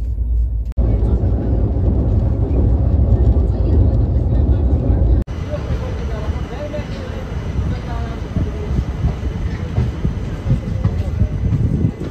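A passenger train pulls into Bareilly Junction: steady, loud rumble of rail cars that cuts off sharply, then continues as a lighter rattling hum with station bustle.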